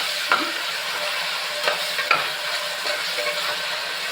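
Tomatoes sizzle in a pan for Karnataka-style sambar while a spoon stirs them, the steady frying hiss broken by a few sharp scrapes and clinks of the utensil against the pan.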